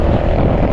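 Engine of a new 2025 Honda ADV 350 scooter revving under a twist of throttle, a loud, steady, close-up drone with no pauses over a brief burst.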